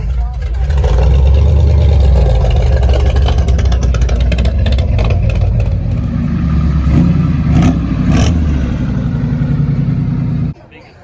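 A loud old Mack diesel truck engine rumbles and revs up close at a car show, a heavy, steady roar that drops off sharply near the end.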